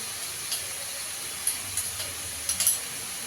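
Spices frying in a pan for a prawn and papaya curry, a faint steady hiss with a few soft crackles and stirring clicks scattered through.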